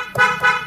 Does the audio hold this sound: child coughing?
no